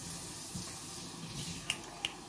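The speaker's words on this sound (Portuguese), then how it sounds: "Mãe, você pode puxar a torneira?" Water runs steadily from a kitchen tap in a home, a continuous soft hiss heard alone, with a couple of brief sharp clicks near the end.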